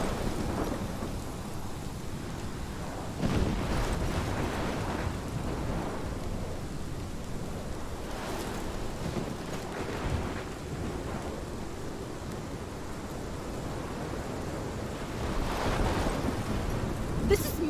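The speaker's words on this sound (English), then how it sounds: "This is my storm." Thunderstorm in Life is Strange: steady heavy rain with low rumbling thunder rolls swelling several times, near and loud, with no talk over it.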